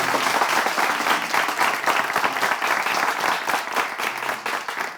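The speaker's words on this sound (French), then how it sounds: "Merci de faire une ovation pour vous-même." Loud, sustained audience applause fills the room as a crowd gives an ovation, dense steady clapping without a break from start to finish.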